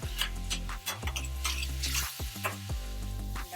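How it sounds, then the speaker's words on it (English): Zucchini coated in cornstarch sizzles while shallow-frying in a pan, a steady crackle under repeated stirring scrapes and clinks of a utensil, with a low hum throughout. "And stir again."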